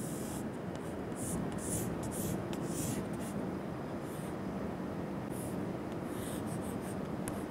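Chalk or marker scratches across a lecture board while a flat plate is drawn, a faint series of brief strokes in bursts over quiet room noise.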